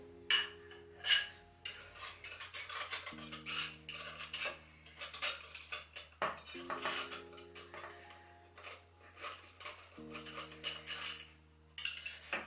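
A whisk clinks and scrapes against a bowl while powdered sugar is mixed into Oreo brownie batter, a steady run of quick, light metallic taps and rubs, close and fairly quiet, with a faint background hum.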